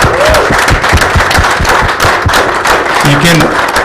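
A hall audience gives loud, sustained applause for Shruti and her pandemic research team at a leadership series event, dense clapping holding steady throughout while voices speak over it.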